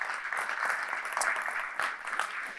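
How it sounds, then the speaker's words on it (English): Audience applause for a panel at an EV summit, a steady, moderately loud clapping from a crowd lasting under three seconds, with no speech over it. "So if you'd like to give our panel a big round of applause to begin with,"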